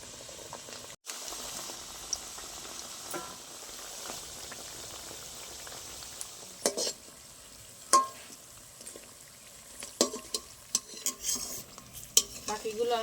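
Kadam nimki pastries frying in hot oil: a steady low sizzle and bubbling throughout, with scattered clinks and scrapes of a utensil in the pan growing busier toward the end, no talk.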